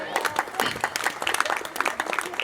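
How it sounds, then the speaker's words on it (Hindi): Loud applause from listeners at a Hindi poetry stage event, a thick continuous wash of clapping from a large crowd, with a voice faintly beneath it. "एक बार श्रोताओं के सम्मान में जोरदार तालियां बजाएं"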